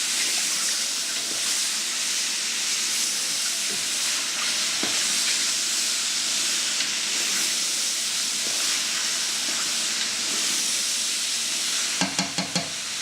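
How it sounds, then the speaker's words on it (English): Portobello mushrooms and onions stirred in a hot pan, giving a steady broad sizzle and hiss throughout, with a few sharp clinks of utensil against pan near the end. "Give it a good stir around."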